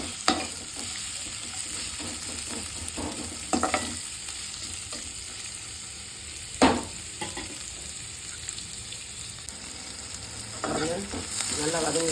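Onions sautéing in a pan for rava kichadi, a continuous close sizzle with repeated scraping stirs and an occasional louder clank of the spatula against the pan.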